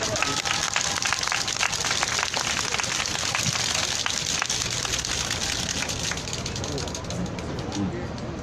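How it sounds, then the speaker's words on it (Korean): Sustained audience applause at an outdoor Wednesday demonstration on the Japanese military sexual slavery issue, a dense crowd clapping continuously at a steady level for several seconds. "큰 박수로 환영해 주십시오."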